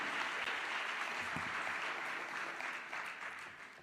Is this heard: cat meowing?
no